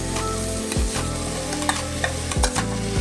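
Washed rice being stirred into a pan for vegetable pulao with soybean and avarekai beans, a steady sizzle of frying underneath and a few sharp scrapes and clinks of the spoon, close and without talk.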